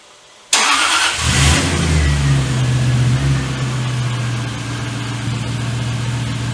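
A Jaguar XK8 engine turns over and catches, then settles into a steady low warm-up idle that hums on evenly, close and fairly loud.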